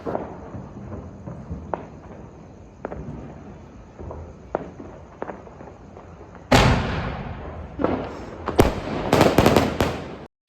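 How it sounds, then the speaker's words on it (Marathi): Firecrackers celebrating a cricket match win pop sporadically outside at first, then burst into a loud, dense volley of sharp cracks and bangs near the end. "बाहेर देखील ना भरपूर असे फटाके वगैरे फुटून राहिलेले होते"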